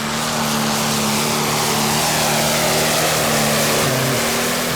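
John Deere pulling tractor at a Danish tractor pulling championship round in Frederiksund, its engine roaring loud and steady through a full run with strong low harmonics, the pitch dropping briefly near the end as it digs down.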